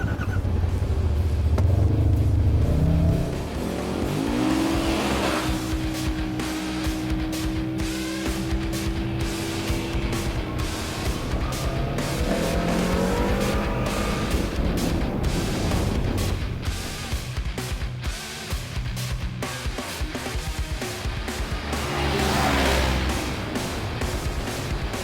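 Two side-by-sides, a Yamaha RMAX 1000 Sport and a Polaris General XP 1000, race past with loud continuous engine roar and rising revs, a deep rumble opening strongly before a steady run of throttle, with no talk.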